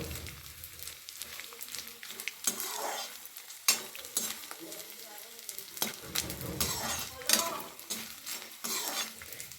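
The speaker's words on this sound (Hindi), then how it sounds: "और गैस का फ्लेम लो में ही फ्राई करेंगे इसको।" Laddu frying in oil over a low gas flame, a bubbling sizzle broken by repeated scraping and stirring of a utensil against the pan, close and uneven in loudness.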